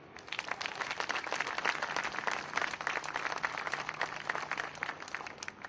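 An audience applauds after a speech at a press conference: dense, steady clapping from many hands, sustained and moderately distant, with no talk.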